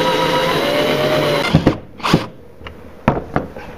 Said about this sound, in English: I'm going to put an electric screwdriver on it